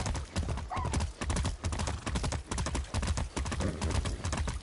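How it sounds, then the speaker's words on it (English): A horse in Far Cry 6 clops steadily on its hooves in a fast, repeated rhythm, close and loud, with a short neigh breaking in near the start. "Be nice, horse."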